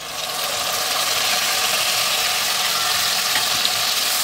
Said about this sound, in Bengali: এবার এটাকে এর মধ্যে তেলেতে ভালোভাবে কষতে নেব।